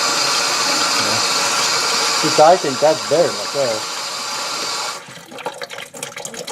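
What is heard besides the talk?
water running from kitchen faucet with aerator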